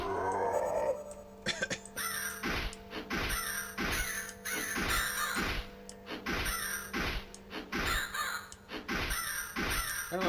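Crows caw repeatedly in the horror video game House of Necrosis, a dense run of harsh, rasping calls in quick rhythmic bursts over a low steady game drone, loud and close.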